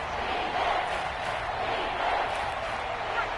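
Stadium crowd roar at Kansas City in a football video game, Chargers facing 3rd and goal, a steady loud wash of cheering that swells slightly and holds throughout.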